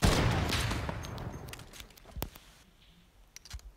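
A fast burst of gunfire in the video game Fortnite shoots at a trap, loud at first and then thinning into a few scattered shots with clicks toward the end.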